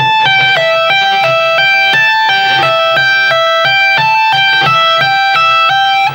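Electric guitar tapping exercise with slammed tapped notes and pull-offs, a fast steady repeating pattern of bright sustained notes with effects, loud and continuous throughout.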